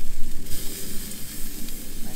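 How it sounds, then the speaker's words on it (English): Two ahi tuna steaks sizzle and hiss steadily on a hot grill inside a Big Green Egg just after being flipped, a close, continuous frying crackle with no voices. "we've been going for a minute and a half on these two ahi steaks, so let's go ahead and flip them."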